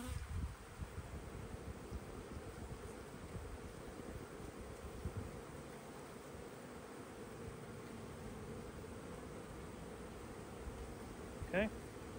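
Honeybees from a package drone in a steady, faint buzz while being installed into a hive on Maryland's Eastern Shore, with a brief higher chirp near the end.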